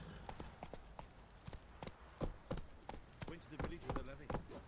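Horse hooves clip-clop in Witcher 3, a quick run of sharp, evenly paced hoofbeats heard close and moderately loud throughout, with game sounds behind and a voice talking over them.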